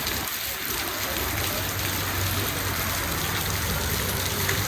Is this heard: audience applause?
no